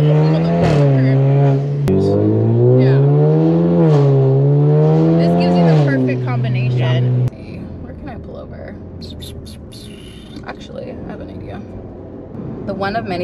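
A 2023 Alfa Romeo Giulia accelerating hard, its engine rising in pitch through two gear changes, then a muted cabin hum and road noise as a voice talks over it.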